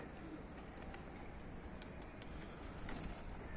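A pigeon at a keeper's rooftop loft coos softly in the distance, low murmuring calls repeating over faint outdoor background noise, with a few light ticks and taps.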